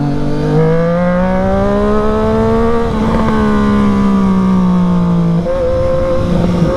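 A Triumph Street Triple RS motorcycle engine revs and climbs in pitch through the gears after a downshift, loud and close from the rider's position, with a brief dip at a shift and wind noise throughout.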